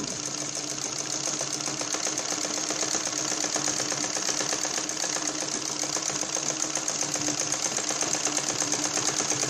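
A sewing machine runs steadily and continuously while stitching wide lace onto a blouse, close and alone with no talk.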